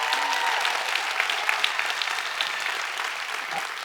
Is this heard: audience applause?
yes